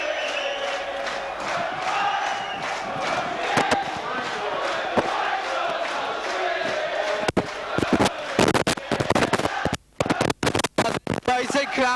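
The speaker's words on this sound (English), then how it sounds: "It's a crowd here, absolutely ecstatic." At a Warrington versus Widnes rugby league match in Wigan, a packed stadium crowd roars in a sustained wave after a try, with a commentator talking over the noise and sharp bangs near the end.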